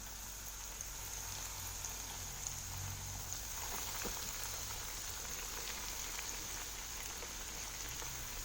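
Pieces of liver fry in heated oil, giving a steady, dense sizzle and crackle that runs unbroken at an even level. No one speaks.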